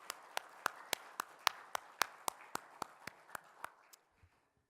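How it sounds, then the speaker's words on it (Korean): A church congregation clapping in slow, steady unison, about fourteen evenly timed hand claps over a soft room murmur, fading out at the end of an Easter service. "우리 그 부활하신 예수님께 다시 한번 큰 영광 박수 드릴까요?"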